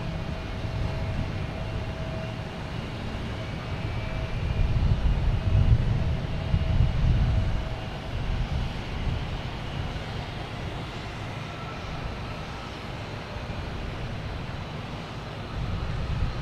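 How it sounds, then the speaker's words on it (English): A JetBlue Airbus A321neo takes off from Boston Logan bound for Heathrow, its engines a broad, distant roar that builds to a peak about a third of the way through and then slowly fades, with no voices. "next to take off will be a A321 JetBlue heading to Heathrow"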